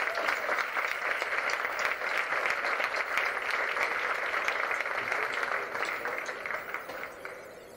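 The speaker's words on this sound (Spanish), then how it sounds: "Un aplauso para él, por favor." Sustained applause from a concert audience greets a pianist at a music event in Venezuela, thick and even clapping that holds at a steady level before easing off slightly near the end.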